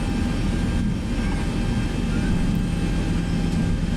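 Zibo Boeing 737 jet engines in the X-Plane 11 simulator idling steadily while taxiing across a runway, a loud, constant low rumble with a faint high whine and no talk.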